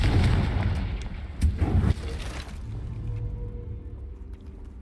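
A blasting spell explosion in Hogwarts Legacy: a sharp booming burst followed by a decaying rumble, with a second smaller blast, fairly close and fading into quiet ambience.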